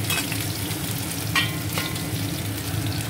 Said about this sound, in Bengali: আলুগুলো বেশ লাল করে ভেজে নেব